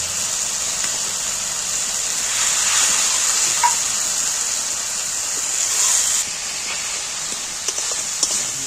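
Spice masala for bhindi fries and sizzles in oil in a pan, a steady bright hiss throughout with occasional soft stirring clinks and no talking.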